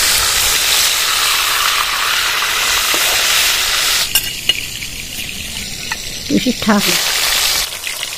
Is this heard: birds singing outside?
no